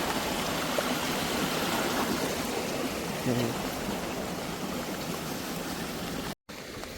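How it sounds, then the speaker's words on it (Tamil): Steady flowing water rushes continuously at a moderate distance, a constant stream-like wash with no clear voices. "தண்ணியோட சத்தம் இப்படி கேட்குதுண்டு"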